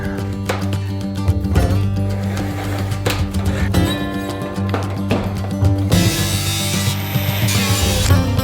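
A power saw cuts a strip of insulated metal skirting for a shed, a loud, steady grinding buzz with metallic ringing tones throughout.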